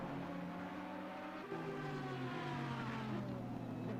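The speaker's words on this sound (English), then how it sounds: "The sound of his engine must be pressing into Normac's now." A V12 race car engine in the Assetto Corsa Competizione racing game, a steady droning whine with a shift in pitch partway through, continuous and moderately loud.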